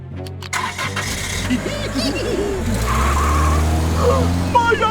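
A cartoon ice cream truck's engine cranks and revs up, then roars steadily as the truck drives off, with squealing tires and brief cartoon voices over the motor.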